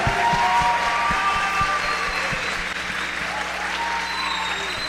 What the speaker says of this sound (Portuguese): com uma salva de palmas, por favor